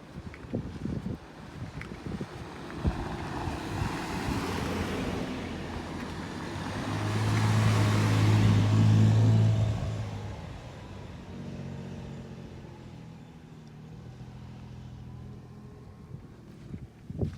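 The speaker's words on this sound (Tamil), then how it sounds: "இந்த வண்டி போகும் பாருங்கள்." A large vehicle rumbles along a desert road, its low engine drone swelling as it passes close by and then fading away, with wind buffeting the microphone throughout and no talking.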